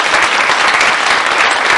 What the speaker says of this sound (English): I think we really want to applaud him for his hard work.